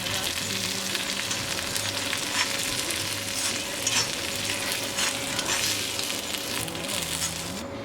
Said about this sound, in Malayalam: എടുത്തു വെച്ചിരിക്കുന്ന തേങ്ങ വറുത്തത് ഇതിലേക്ക് ഇട്ട് കൊടുക്കാം.